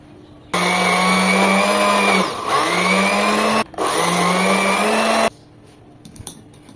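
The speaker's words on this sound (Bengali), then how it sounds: "আবার 1 মিনিট ব্লেন্ড করে নেব।" A blender whirs loudly, blending homemade mango-flavoured Tang-style drink powder, running in three steady bursts with two brief pauses between them, then stopping.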